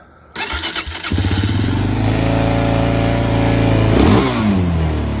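A Suzuki LTZ400 quad ATV engine cranks in rapid chugs, catches and settles into a loud, steady close idle, then briefly revs up before easing back down.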